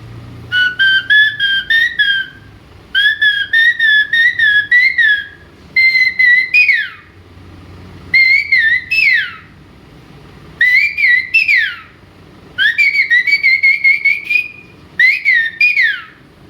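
A person whistles an imitation of the coppersmith barbet (basanta bauri) morning call, loud and close, in seven bursts of rapid repeated notes separated by short pauses, with no talking.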